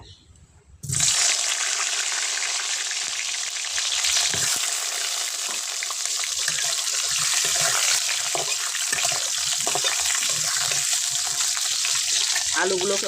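Potatoes dropped into hot mustard oil in a wok burst into a loud, steady sizzle after a brief quiet start, frying continuously with occasional stirring clatter and no talking.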